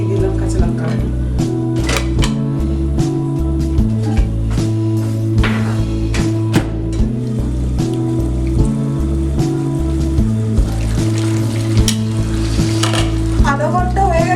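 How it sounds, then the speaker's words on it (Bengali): Slit green chillies hit hot mustard oil in a pan while a chicken dish cooks, giving a loud, close, continuous sizzle and crackle with some stirring scrapes and a voice speaking over it. "তো এরপরে দিয়ে দিলাম কাঁচা লঙ্কা।"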